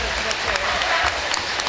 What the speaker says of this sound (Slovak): Daniel Šenkovič a veľký potlesk pre neho